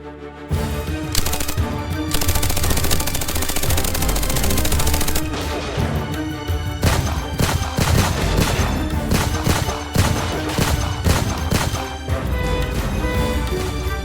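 Rapid bursts of gunfire in the video game Shadows of Duat crackle over a dense, loud music-like backdrop, with repeated sharp volleys throughout.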